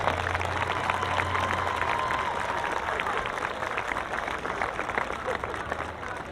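A crowd at a school Wall of Honor induction ceremony applauds continuously, dense clapping heard at moderate distance, with a low hum and a few voices underneath.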